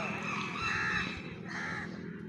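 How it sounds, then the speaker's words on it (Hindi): Crows cawing inside an enclosure at a zoo in Multan, several harsh calls rising and falling over steady background noise and a faint murmur of voices. "ये अंदर बैठे हुए कौवे, ये कौवे इन्होंने पाले तो नहीं हुए, लेकिन ये कौवे खुद ब खुद आ गए हैं"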